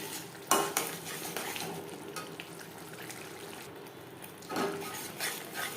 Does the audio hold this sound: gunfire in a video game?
no